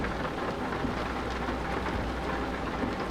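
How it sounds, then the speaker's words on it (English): Steady, dense rain drums on the glass and metal of a truck in Euro Truck Simulator 2, driving in England, a constant hiss with a low rumble beneath. "yeah, we got rain"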